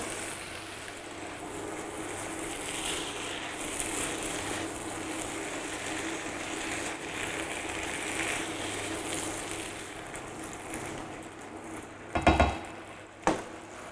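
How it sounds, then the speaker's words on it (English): Cabbage and spices simmering in water in a pot, a steady soft bubbling hiss that continues throughout, ending with a couple of sharp clatters near the close. "And then just let it simmer for about 10 minutes."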